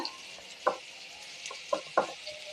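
Onion, garlic and green chillies frying in a pan for a Kerala bottle gourd and chana dal curry, with a soft sizzle under a few distinct scraping stirs and spoon knocks against the pan, close by and wordless.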